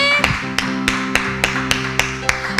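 A group of children aged 10 to 12 in a church class claps in acclamation, about nine sharp, evenly spaced claps over a steady musical drone.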